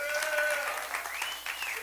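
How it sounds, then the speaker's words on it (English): A summit audience breaks into applause for a top earner being recognized, brisk clapping with a faint whistle or cheer sliding over it and a voice briefly audible near the end. "give a big round of applause and a huge thank you to Mr."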